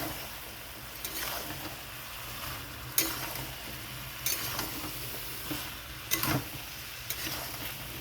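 Taro stolons being stir-fried together with prawns in a pan, a soft continuous sizzle with periodic scraping stirs of a spatula every second or so, fairly quiet and close, no voices.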